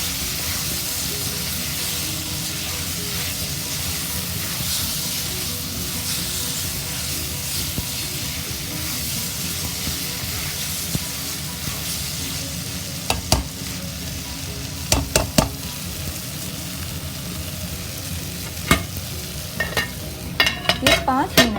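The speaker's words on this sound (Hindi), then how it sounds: "इसके बाद हमने फ्राई की भिंडी इस पर डाल देनी है। फिर इसको हमने मिक्स करना है।" Chicken fries in a pan with okra, a continuous sizzling hiss, joined later by scraping stirs and sharp clinks of a spoon against the pan as the mix is turned.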